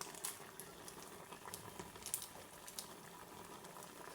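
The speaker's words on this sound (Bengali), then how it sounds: "আমি ভালো করে সেদ্ধ করব একদম এই জলটা আছে জলটা একদম খুব শুকিয়ে নেব" Water bubbles at a steady rolling boil in a cooking pot as Maggi noodles simmer down, a faint, even seething with small pops and no talking.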